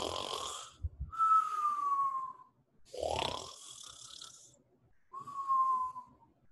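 A voice imitates loud snoring: a rough, rattling inhale followed by a long whistling exhale, repeated about twice, close and alone.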